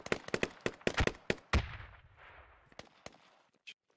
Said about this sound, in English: Shots maybe from like over east.